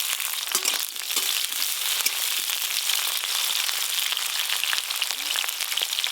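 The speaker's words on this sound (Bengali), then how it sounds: "আজকে প্রথমে শুক্তো রান্না করব, তাই এই যে করলাগুলো একটু ভালো করে ভেজে নেব" Bitter gourd (karela) frying in oil for shukto, a continuous bright crackling sizzle with dense popping spatter, close and steady throughout with no talking.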